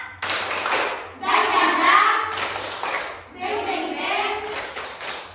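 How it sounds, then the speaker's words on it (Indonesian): A classroom of children performs the rhythmic 'tepuk semangat' spirit clap, chanting together in bursts while patterned claps and light thumps punctuate each phrase, close and lively. "Tepuk semangat, harus semangat"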